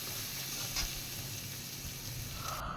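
Onions hiss in hot mustard oil in a pan, a bitter gourd masala curry in progress: a steady, close, even sizzle throughout with a brief louder burst near the start, no voices.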